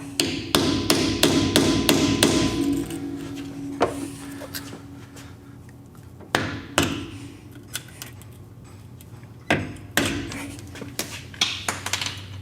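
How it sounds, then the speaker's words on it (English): Hammer tapping underneath a flanged seal to pop it out during a 4L60E transmission driveshaft install, a quick burst of sharp metallic strikes followed by a few sparse, isolated taps. "we might be able to just tap underneath the flange and pop it out"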